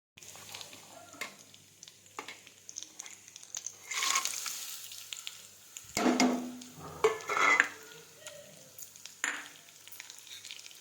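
Dry fruits and semolina (rava) fry in a pan for Holi gujiya, with a faint sizzle under intermittent scraping stirs and metallic clinks, a few louder spoon strokes bunched in the middle.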